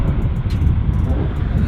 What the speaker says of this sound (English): Love the sound of this car.